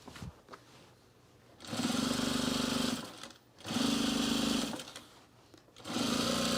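A sewing machine stitches binding onto a sewn rug in three sustained bursts, with short pauses between runs, loud and close with no talk.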